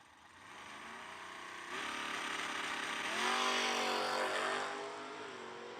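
A Chevy S10 and a Mustang launching at a drag race, engines swelling into a rising roar as the cars pull away, heard from a distance with the pitch climbing through gear changes.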